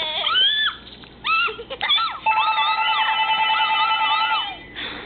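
An electronic phone ring from a Nintendo DSi chirps in warbling trills, starting and stopping, then a longer continuous ringing tone, loud and close.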